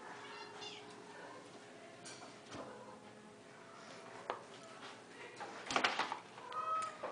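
A cat meows faintly a few times inside a shelter cat condo while it is cleaned, with soft handling clatter and a short rustle around it.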